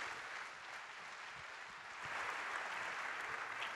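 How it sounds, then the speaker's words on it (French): Applause from a conference audience at a business event, a dense, even crackle of many hands that swells slightly louder toward the end. "Merci de l'applaudir."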